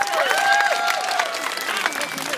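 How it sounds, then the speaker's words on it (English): Applause from a county fair crowd at an outdoor roadshow, steady clapping with scattered cheers and whistles filling the whole stretch at moderate loudness. "Let's give him a big round of applause."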